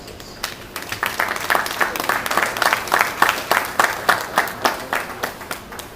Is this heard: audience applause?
yes